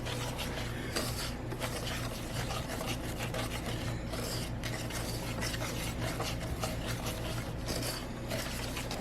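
A spoon stirs a sugar and cornstarch mixture for strawberry pie, a steady, close scraping and rubbing against the bowl with no pauses.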